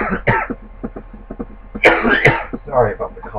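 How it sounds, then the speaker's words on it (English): A sick gamer coughs and clears his throat a few times during live Call of Duty: Black Ops commentary, short rough bursts close to the mic with talk around them. "Sorry about the cough, guys."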